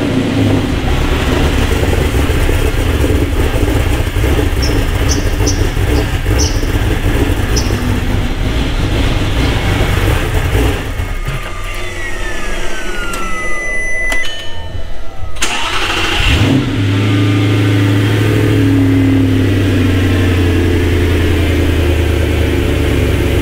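An Audi R8 with an R-tronic gearbox, back together after a clutch replacement in a workshop, cranks and fires up. Its deep engine then runs loud and steady, close by, over a constant mechanical drone.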